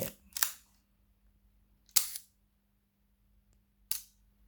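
An Olympus 35SP camera shutter on bulb setting fires in three sharp, close mechanical clicks spaced a couple of seconds apart in a quiet room.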